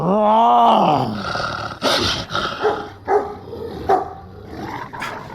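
Dogs barking and growling in a dramatized audio roleplay about moonlight hounds and a werewolf attack: a long howl-like groan opens, followed by a loud, dense run of close barks and snarls.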